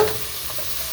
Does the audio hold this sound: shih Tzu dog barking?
no